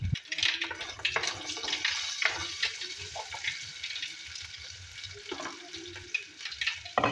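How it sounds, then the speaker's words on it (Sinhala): Dried fish fries in hot oil with mustard seeds, onions and carrot, a moderate crackling sizzle broken by irregular stirring clatters and watery bursts, close but not very loud. "කරවල එක සම්පූර්ණයෙන් බැදෙන්න දෙන්නේ නැහැ."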